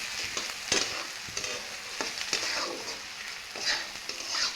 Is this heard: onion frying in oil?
yes